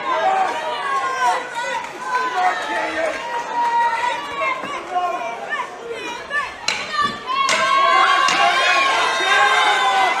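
A boxing crowd in an arena gives off a lively roar of chatter and shouting, which swells into louder cheering toward the end, while a commentator speaks over it.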